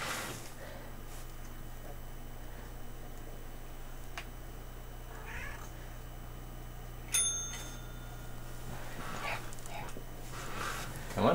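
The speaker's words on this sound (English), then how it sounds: "Hit the bell, baby. Hit the bell." A small bell is struck once partway through, giving a bright, brief ding over steady background hum, with voices around it.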